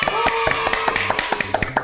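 Quick, sharp hand claps fall in a loose rhythm under a person talking, close and moderately loud.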